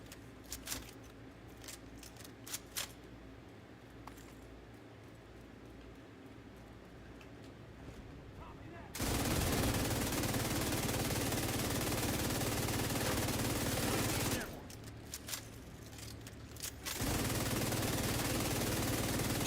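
Video game gunfire on heroic difficulty, heavy sustained bursts of shooting that swell loud and dense for several seconds, drop back briefly, then resume, with quieter scattered shots before.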